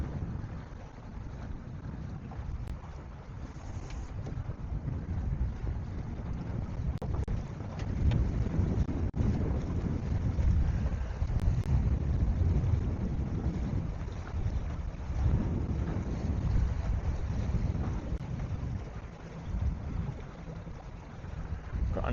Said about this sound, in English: Yeah, it's picking up quite some wind.